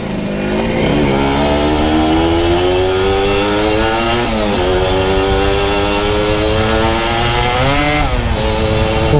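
A Honda Nova Dash SP1 motorcycle engine with a slipping clutch revs loudly and close, its buzzing whine rising and falling in pitch in several surges with no voices.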